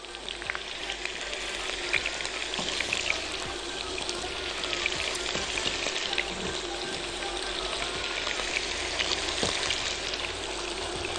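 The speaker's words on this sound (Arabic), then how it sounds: "البطاطس تحميرة في الزيت" Potatoes frying in oil, a dense, crackling sizzle that runs steadily and close for several seconds, with scattered sharper pops and faint stirring clinks.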